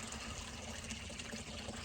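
Water running steadily from a hose on a farm where alpacas drink, a continuous close hiss and splash with no talking.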